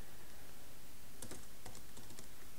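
Typing on a computer keyboard, a short burst of light, quiet key clicks clustered in the middle of the clip over a low steady background hiss.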